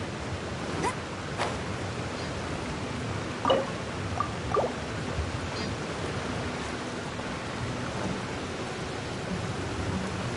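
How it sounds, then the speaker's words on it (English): Steady hiss of rain falling in Genshin Impact, broadband and constant, with a few brief clicks and taps scattered through it. "Oh no, it's raining."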